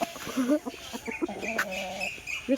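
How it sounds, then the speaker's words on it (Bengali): Chickens cluck and squawk close by while being fed by hand, a run of short clucks and one longer drawn-out call. "মুরগি খাবে একটা দিয়ে দেখি রে"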